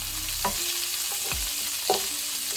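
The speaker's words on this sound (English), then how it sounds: "brown our sausage. Our sausage is brown now" Sausage browning in a pan, a dense close sizzling hiss with a couple of brief stirring scrapes, no voices.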